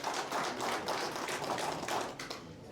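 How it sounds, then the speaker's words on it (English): Applause from a small audience at a football club kit launch event, a steady patter of hand claps lasting a few seconds, moderately loud and close, with no talk over it. "Let's give him a round of applause."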